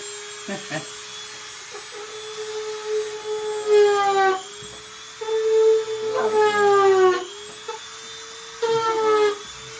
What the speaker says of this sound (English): I'm going to take my Dremel again.